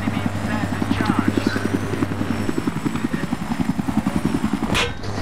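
A Battlefield 3 helicopter drones near and loud, its rotor chopping in a fast, even pulse under a low engine hum, with voices talking over it.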